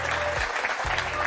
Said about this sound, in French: on va profiter de vos applaudissements pour accueillir Thierry Beccaro comme il se doit